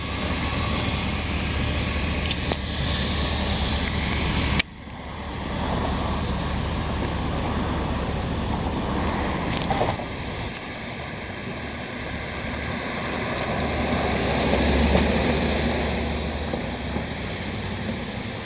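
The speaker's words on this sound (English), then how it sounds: "that noise you hear is the AC that's on." The air conditioning in a 1992 Cadillac Fleetwood Brougham runs as a steady, loud broadband blowing rush inside the cabin. It shifts briefly around the five- and ten-second marks, then settles back to a constant whoosh.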